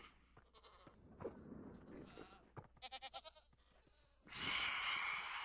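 Goat bleating in a Minecraft-style survival game, several short wavering bleats in quick succession, followed by a louder burst of game noise.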